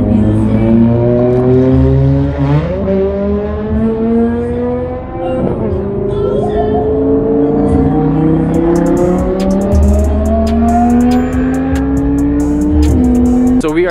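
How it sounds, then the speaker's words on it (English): A 700+ horsepower Dodge Charger Hellcat drift car revs loudly on a racetrack at Exotics Racing Las Vegas. The engine note climbs and drops through repeated rising sweeps with a sustained roar throughout and no voices. "That's the drift car right there."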